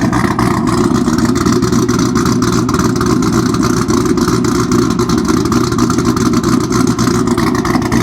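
A Chevrolet Camaro ZL1 1LE V8, evidently modified from stock, runs loud and close with a continuous deep, rumbling exhaust note and slight throttle fluctuation throughout.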